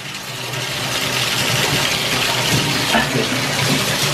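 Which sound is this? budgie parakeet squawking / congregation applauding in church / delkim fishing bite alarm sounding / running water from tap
running water from tap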